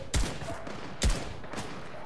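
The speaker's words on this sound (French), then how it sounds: "Il snipe maintenant." Sniper rifle fire in Fortnite: two loud, sharp shots about a second apart, each with a short ringing tail, followed by a fainter third report, with no voices.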